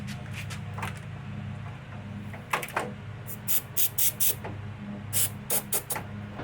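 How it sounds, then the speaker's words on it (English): Rust-Oleum cold galvanizing zinc coating sprayed from a can onto truck bed stiffeners, a series of short, sharp hissing bursts, several in quick succession, close by over a low steady hum. "I'm just hitting it with Rust-Oleum cold galvanizing compound, which is zinc ridge coating"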